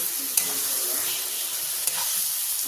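Eggplant tossed into hot oil with frying ginger and garlic spices for a Bengali-style begun bhorta, giving a steady loud sizzle with two sharp clanks of stirring, no talk.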